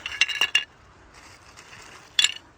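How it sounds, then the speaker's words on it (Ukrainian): Old dishes and glass dug up from a buried rubbish pit are handled: a few bright clinks and chinks in a quick cluster at the start, a quieter gap, then one more clink near the end, with no speech. "А результати в нас поки що ось така посуда йде."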